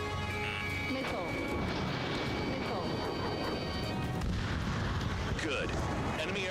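Rumbling bursts and booming blasts of missile fire in a VR fighter jet combat game, dense and continuous over engine roar, with voices speaking throughout.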